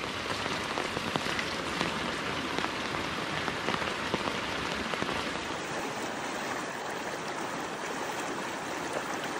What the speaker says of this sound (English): Well, it's raining